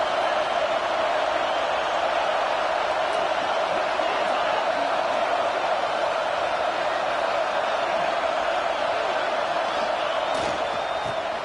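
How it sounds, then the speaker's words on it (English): A stadium crowd at a USC college football game roars steadily and loudly as the defense faces a red zone stand, a dense unbroken wall of noise from the stands. "And here comes the noise. This crowd is trying to inspire this defense to make a big red zone stop."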